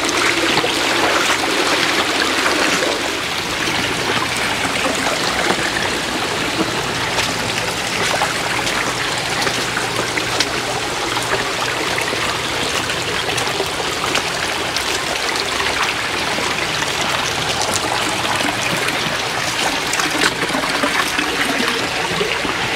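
Water rushes and splashes continuously as fish are poured out into an aquarium tank, a loud, steady gushing pour lasting many seconds with no pauses.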